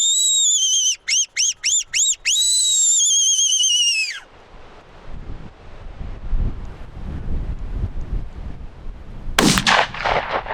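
A hunter's whistle sounds loud and shrill in the Australian outdoors, a long blast broken by five quick pulses and then held, followed by wind buffeting the microphone and a late burst of sharp sound.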